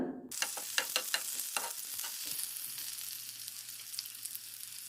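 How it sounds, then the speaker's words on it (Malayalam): Fenugreek seeds, small shallots and curry leaves hit hot oil for a Kerala-style starfruit curry. The result is a sudden loud sizzle that settles into a steady crackling fry, with a few sharp pops and spoon stirs at the start. No one speaks. "എണ്ണ ചൂടായപ്പോൾ കുറച്ച് ഉലുവ ഇട്ട് കൊടുത്തു ആ ഉലുവ ഒന്ന് മൂത്ത് വരുന്ന സമയത്ത് ചെറിയ ഉള്ളി കറിവേപ്പില ഇവ ചേർത്ത് കൊടുക്കാം"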